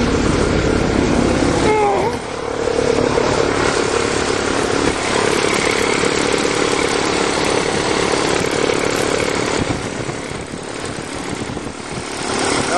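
An old dump truck with a 427 engine idles roughly, running rich with the choke partly on, a steady loud engine rumble that dips briefly around two seconds and again near ten seconds.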